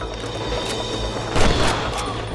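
Gunfire in the Red Dead Redemption video game, a dense game soundscape with a heavier burst of shots or a blast near the middle, steady background noise throughout.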